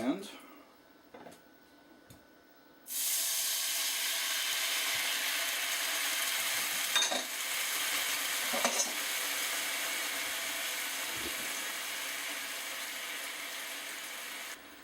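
After a few quiet knocks, a loud steady hiss starts abruptly as a mixture is stirred in a hot pan, with occasional scrapes of the utensil against the pan.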